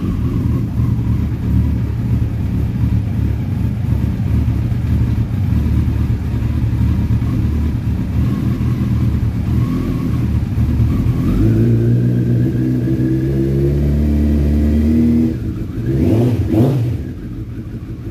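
A motorcycle with fuel injection fires up for a quick test start in a quiet spot, settling into a steady rumbling idle before a brief rev swells near the end, close and loud.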